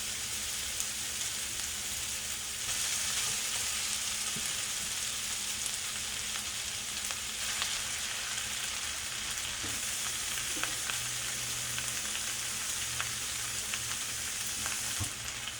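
Cold semi-sticky rice for pork fried rice warms in a hot pan, a steady, rain-like frying hiss that swells after a few seconds and holds, with occasional faint clicks of a utensil and no speech.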